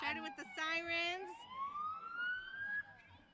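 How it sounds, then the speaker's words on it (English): A police siren wails at a town parade, rising and sweeping, moderately distant, with a voice talking briefly at the start. "Starting with the sirens."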